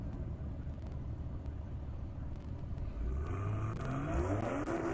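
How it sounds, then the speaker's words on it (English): A drag-racing car's low engine rumble at an airport drag strip builds into a rising rev toward the end, the pitch climbing as the motor accelerates, moderately loud with no talking. "I guess he wanted to make sure we knew his car revved"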